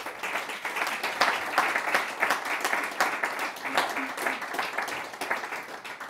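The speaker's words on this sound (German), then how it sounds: "das ist auch eigentlich mal ein Applaus wert." Audience members at a German press conference launching a language portal break into applause, a full, even patter of many hands clapping that carries steadily for several seconds with no speech on top.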